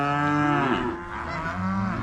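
Cows and calves in a pen bellowing after the calves were separated at weaning; loud overlapping moos, close by, continuous over two seconds with no talk.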